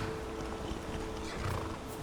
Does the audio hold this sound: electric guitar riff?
no